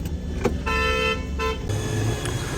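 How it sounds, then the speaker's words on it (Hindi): A car pulls up at an auto shop with a steady engine rumble close by, broken by short tonal toots that sound like a horn. "तो भाई लोग गाड़ी लेके हम आ चुके हैं अपने चचा ऑटो स्मार्ट वाले के पास, यासर चचा"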